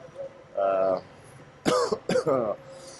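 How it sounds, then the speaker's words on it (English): A few harsh coughs come in quick bursts near the microphone, with a brief throat-clearing sound before them and a quiet background. "and I still have a cough"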